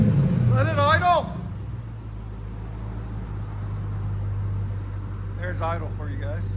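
Close by, a Mercury Grand Marquis 4.6L V8 with a custom H-pipe exhaust holds a steady deep idle, a low even drone with a voice heard briefly at the start and end.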